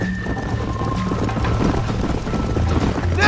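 Hooves pound in a quick, rolling rhythm as horses race close by in Red Dead Redemption, with a low engine-like rumble underneath and a brief brighter burst at the end.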